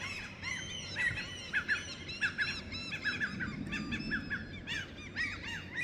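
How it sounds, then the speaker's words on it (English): A flock of gulls squawks and calls repeatedly at a distance, overlapping harsh cries against a low background rumble. "Looks like some gulls."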